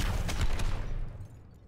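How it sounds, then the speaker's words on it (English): Helix rockets fired at targets in the video game Overwatch: a quick volley of sharp, loud bursts over a low rumble, fading out after about a second. "Fire your helix rockets at the targets."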